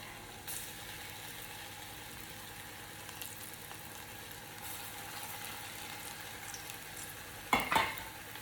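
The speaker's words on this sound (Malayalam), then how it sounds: "അവിടെ കിടന്ന് നന്നായിട്ട് ഫ്രൈ ചെയ്തെടുക്കട്ടെ." Sweet potato balls frying in hot oil, a soft continuous sizzle at low level with a brief louder scrape or turn near the end, no talking.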